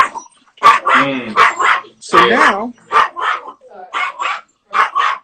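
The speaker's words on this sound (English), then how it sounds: "the attack dog is trying to fight" An attack dog barks close by in repeated bursts, with yips and whimpers, while someone talks between and over the barks.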